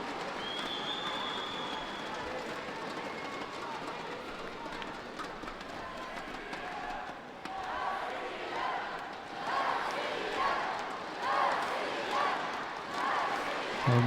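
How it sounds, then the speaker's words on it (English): A home crowd cheers at a judo Grand Slam match in Ekaterinburg, urging on their fighter. The cheering builds in swelling surges toward the end, and a commentator's voice runs over it. "Home crowd trying to get behind their fighter"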